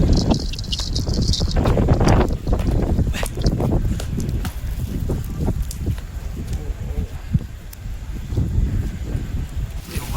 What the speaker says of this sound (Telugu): వర్షం స్టార్ట్ అవుతుంది వర్షం స్టార్ట్ అవుతుంది